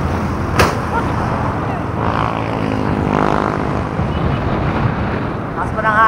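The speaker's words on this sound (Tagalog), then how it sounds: "Masama, lakas ng hangin." Strong wind roars and buffets the microphone on a motorcycle ride on the Banahaw loop toward the Atimonan zigzag road, a loud continuous rumbling wash under a faint engine drone.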